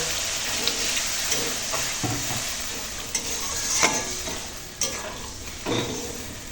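Spice masala for katla kalia fries and sizzles in oil with a steady hiss as water is added, punctuated by several clinks and stirring scrapes of a spoon against the pan, no voices.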